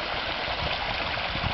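Water rushes from a waterfall beside a partly snow-covered stairway, a dense, steady hiss and roar that stays constant and close throughout.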